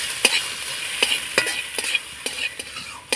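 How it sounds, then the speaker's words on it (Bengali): Peanuts and ginger are stir-fried on low heat, with a gentle, even sizzle broken by about eight crisp spatula scrapes in a loose, unhurried rhythm, close and clear with no talking. "তো দেখুন হালকা আঁচে আমি নাড়াচাড়া করে ভেজে নিয়েছি"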